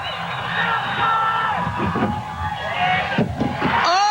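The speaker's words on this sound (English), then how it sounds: "Listen to this crowd." Spectators at a street aggressive inline skating event in Hermosa Beach roar and whoop as a skater completes a huge 19-foot loop, a loud sustained crowd cheer with shouts and yells rising through it.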